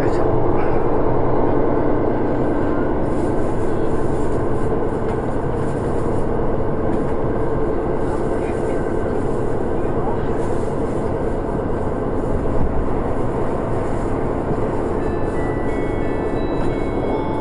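A Sapporo subway train runs with a steady, loud rumble and rolling hum that holds evenly throughout, with no clear breaks or announcements standing out.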